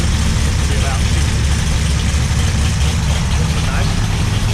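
A pump-gas 508 stroker Mopar big-block V8 idles loudly and steadily at its first start-up, a deep, continuous rumble close to the microphone.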